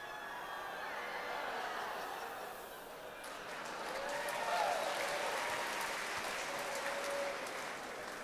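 Audience applause in a theater screening old San Francisco film footage: steady, broad clapping from a sizable crowd that swells slightly midway, with scattered chuckles.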